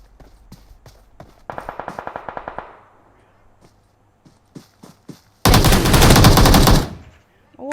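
Gunfire in a battle royale-style shooter video game: a rapid burst of about ten automatic shots, loud and close, followed by a few scattered single shots, a long dense blast of firing near the end, and faint talk in between.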